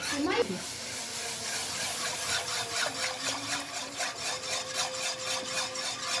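A whisk scrapes and rubs steadily in a pan as milk is stirred into roasted flour for a creamy pasta sauce, a continuous close scratchy texture with faint voice in the background.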